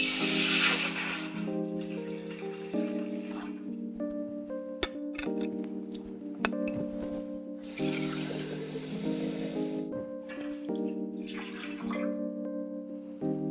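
Water runs from a tap into a cooking pot for making payasam, a steady stream whose pitch shifts as the vessel fills, with a few small clinks.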